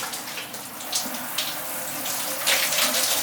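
Water from a shower head runs steadily over aquarium baffle filter parts as they are rinsed on one side and then the other, a continuous close splashing hiss with small surges.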